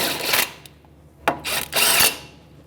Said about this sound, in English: That's a 17mm socket or wrench. I'm just going to snug them up.